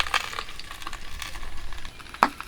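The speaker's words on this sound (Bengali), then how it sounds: "এই দেখুন মাছের থেকে টকবক করে ফুটতেছে" Fish and potatoes sizzle on a griddle over banana leaf, giving a steady close crackle with scattered sharp pops and one louder clatter near the end.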